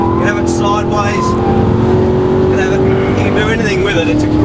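Car driving fast through the first corner of a ride and handling test track, engine note steady and loud throughout under continuous talking, with no clear pass-by.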